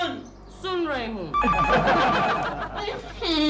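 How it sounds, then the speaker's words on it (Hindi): Telephone bell ringing in a home, repeated rings sounding under and between a voice, with other people talking over it. "फोन सुन रही हूँ।"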